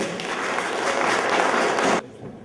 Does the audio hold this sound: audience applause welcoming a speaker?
yes